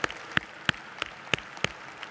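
An audience at a hotel success-story presentation gives light, sparse clapping: a few separate claps at an irregular pace, fairly faint.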